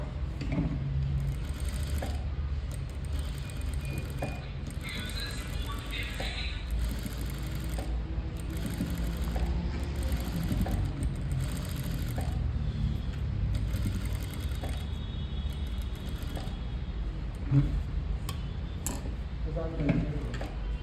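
A sewing machine stitches a decorative back design on a boat neck blouse, a steady close mechanical whir with faint ticking running throughout.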